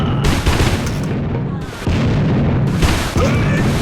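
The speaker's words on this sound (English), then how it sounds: "I'll open the fight with the rocket rifle's secondary fire mode." Rocket rifle secondary fire in the Hellforces video game booms in heavy, loud, back-to-back blasts with a dense, roaring rumble, cutting in and out in rapid bursts.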